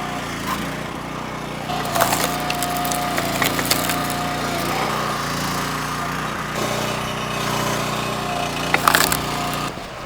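Wood being split on a log splitter fitted with a 4-way wedge, heard as a steady engine drone with cracking, splintering bursts near the start and again near the end.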